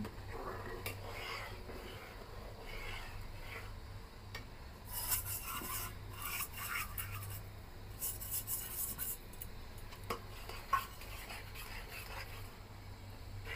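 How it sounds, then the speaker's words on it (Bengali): A spoon scrapes and rubs through roasted semolina (rava) in a pan for vegetable upma, a soft rasping, irregular stirring sound at close range with occasional brighter scuffs and no talk. "এবার আমি যে সুজি ভেজে রেখেছিলাম সেটা অল্প অল্প করে দিয়ে দিব আর নাড়তে থাকবো"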